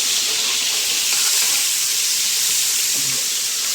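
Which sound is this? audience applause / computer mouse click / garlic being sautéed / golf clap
garlic being sautéed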